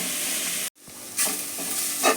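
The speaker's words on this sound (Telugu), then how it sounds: "తర్వాత బీరకాయ తొక్కని వేసేసి పచ్చి వాసన పోయేంత వరకు మంచిగా వేయించుకోవాలి." Ridge gourd peel frying in a pan over medium flame: a close, continuous sizzle with a brief pause and a few stirring scrapes.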